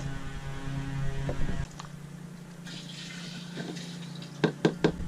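NitroSurf surfactant poured into a sprayer tank for field corn, liquid splashing and trickling faintly over a steady electrical hum, ending in a few sharp knocks.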